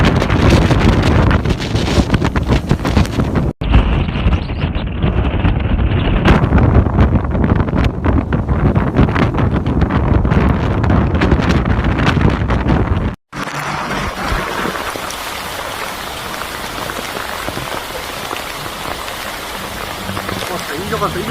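Typhoon wind and heavy rain lashing the southeastern coast of Fujian, China: loud, continuous roaring gusts buffet the microphone over dense rain hiss, with sharp cuts between scenes.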